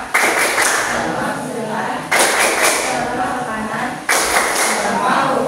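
A classroom group performs the 'tepuk norma' clapping chant, with loud rhythmic hand claps in repeating bursts over chanted voices, the pattern restarting about every two seconds.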